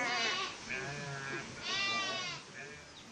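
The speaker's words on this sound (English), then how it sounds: "Goats are coming home." Several goats bleat while coming home, with long wavering cries that overlap and rise and fall in strong, close bursts against a quiet outdoor background.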